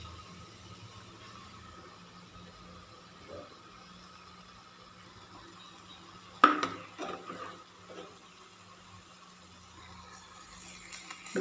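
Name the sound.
stirring and sautéing jackfruit with ground paste in pan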